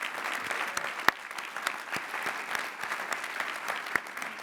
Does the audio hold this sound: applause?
yes